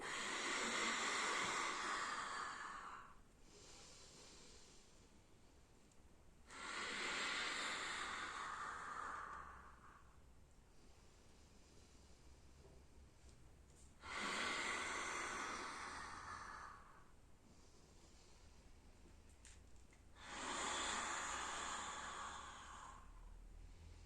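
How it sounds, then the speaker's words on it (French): Slow, deliberate breaths during a Pilates abdominal workout: four long, airy exhales and inhales lasting about three seconds each, close and clear, with quiet pauses between and no talking. "Tu souffles en montant, t'inspires sur le retour."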